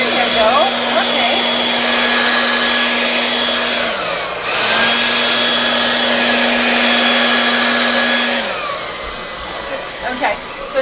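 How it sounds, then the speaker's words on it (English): A hair dryer blows during a painting session: a loud, steady motor whine close by, with its pitch briefly dipping and shifting around the four- and eight-second marks as it is tilted and turned. "You can tilt the dryer."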